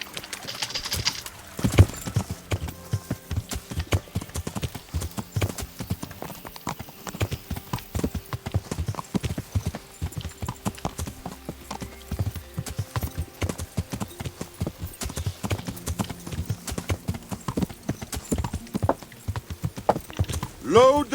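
Hooves clip-clop in a steady trotting rhythm throughout, close and clear, with birds cooing and occasional voices in the background, from a horse in the video game Kingdom Come: Deliverance.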